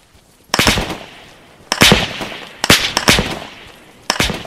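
Gunfire in a war game, a series of loud sharp shot bursts in quick clusters with ringing tails, about six to seven reports spread over a few seconds, close and alone with no talk.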